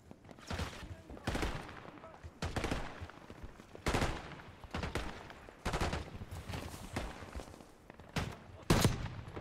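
Gunfire in the Black Ops 6 campaign: repeated bursts of sharp shots, some rapid automatic strings, spaced every second or two across the clip at moderate distance.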